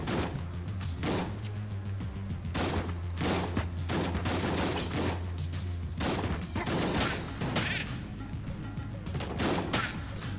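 Rapid gunfire from Enter the Gungeon fills the scene with repeated bursts of shots every second or so, loud and continuous over a steady low hum.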